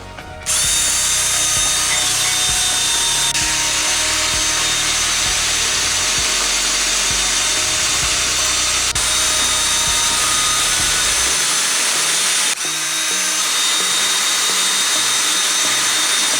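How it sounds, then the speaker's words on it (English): A power drill bores holes into a wall for shelf anchors, a loud continuous whirring grind running steadily for most of the stretch with brief pauses and shifts in pitch, close and alone without talk. "I've already marked where I want the holes to go, so let's make a couple of holes"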